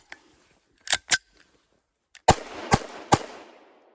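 A Blow TR-1402 9mm blank pistol is loaded with STS blank rounds and fired. Two sharp clicks come first, then three loud, close blasts about half a second apart, each with a short decaying echo.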